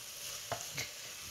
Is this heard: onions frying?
yes